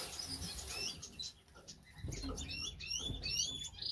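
Small finches in a birdroom chirp in quick, high-pitched bursts, with soft wing flutters and rustling nearby.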